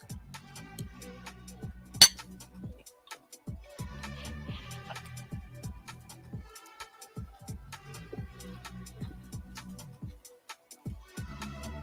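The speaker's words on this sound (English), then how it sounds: "I'm going to eat a little bit of rice my wife brought me" Cutlery clinks and scrapes against a dish as someone eats rice, a steady run of soft, close taps with one sharper clink early on and no talking.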